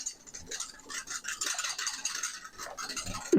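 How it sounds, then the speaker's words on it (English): Eggs being whisked by hand for carbonara sauce, a steady close scratchy swishing of the whisk against the bowl that keeps going throughout and ends in a knock. "And then we gotta whisk it up real nice."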